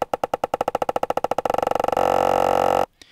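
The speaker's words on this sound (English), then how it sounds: "it's just smoothly going through that sample and making that loop shorter and shorter" A sampled loop retriggers in an accelerating stutter as its length shortens, the repeats speeding up until they blur into a sustained buzzing tone that cuts off abruptly, leaving a brief faint tail; no talking.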